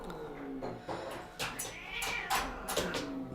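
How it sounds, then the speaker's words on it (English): House cats scrap with each other, giving short strained meows and yowls in quick bursts, fairly faint and close, with some low background sound between cries. "My cats are scrapping right now too."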